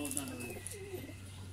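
Kaldumaa pigeons coo softly at a loft, a low steady murmur with faint higher chirps over a constant hum, fairly distant and quiet throughout.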